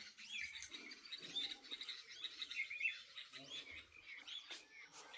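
Birds call in Ranthambore forest, with parakeets and bulbuls chirping and trilling in overlapping bursts throughout, fairly faint and distant, over low rustling and occasional soft background sounds.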